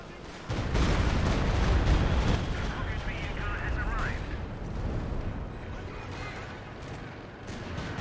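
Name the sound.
grenade explosions in video game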